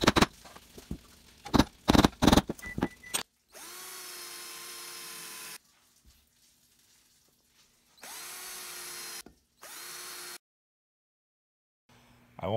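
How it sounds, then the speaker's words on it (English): A power drill whirs in three steady bursts with silent pauses between, preceded by some clattering knocks and clicks, drilling holes in a homemade metal foundry for melting copper and brass. "Now I'm going to put in 4 holes on each side so we can drill holes"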